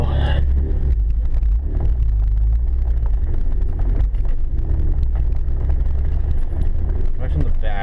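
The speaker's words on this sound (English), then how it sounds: "Hear the exhaust maybe." A 2010 Jeep Wrangler with a manual gearbox is driven, its engine and exhaust a loud, steady low rumble with road and wind noise inside the cabin, with a person talking over it.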